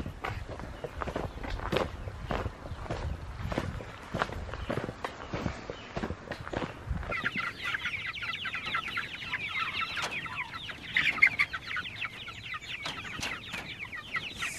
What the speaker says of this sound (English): You guys hear the meat birds?